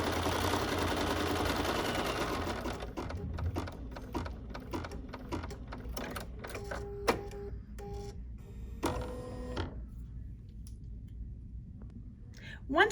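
An embroidery sewing machine stitches a holiday ornament design, first a dense steady whir, then a run of quick mechanical clicks and taps with short pauses, heard close and moderately loud.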